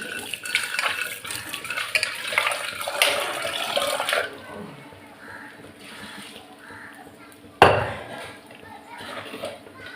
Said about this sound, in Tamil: கொஞ்சம் தண்ணி,